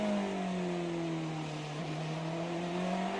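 BMW and Mercedes race cars speeding down the front straight, a loud close engine roar with rising then falling pitch as they pass in quick succession.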